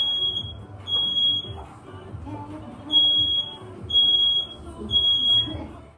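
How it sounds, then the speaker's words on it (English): A kitchen smoke alarm, set off by smoke during breakfast cooking, shrills in loud piercing beeps. They come in bursts of about a second, repeating steadily over indistinct background voices and room noise. "the fire alarm started going off"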